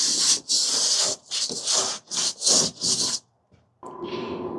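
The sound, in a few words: wiping down an RV wall with rubbing alcohol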